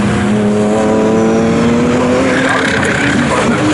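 ASCAR stock-style race cars roar past at Snetterton circuit, a loud continuous engine drone with rising and falling pitch as the pack sweeps by, with a commentator's voice over the top.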